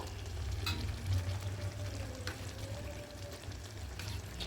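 Tomato chicken cooked without onion being mixed with sour yogurt in a pan, a soft continuous sizzle with low rumble and occasional faint stirring clinks, no talking.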